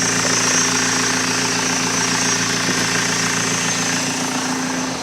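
A BMW M47 diesel engine with a rough-start fault runs to warm up, a loud, steady idle with a constant low drone and clattering diesel knock, continuous and close by with no talk.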